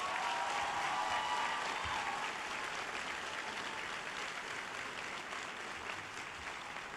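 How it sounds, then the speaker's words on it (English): Sustained applause from a large graduation audience at Nathan Hale High School, a dense steady clapping wash that fills the whole stretch and tapers slightly toward the end. "So would you please give them another round of applause?"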